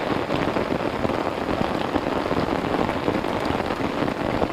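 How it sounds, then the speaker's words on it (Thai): Steady rain pours down at a tent campsite beside railway tracks below the Pa Sak dam in Lopburi, a dense, even patter on surfaces with no pauses and no one speaking. "บรรยากาศช่วง ฝนตกครับ ที่รางรถไฟโคกสลุงท้ายเกินป่าตักครับ"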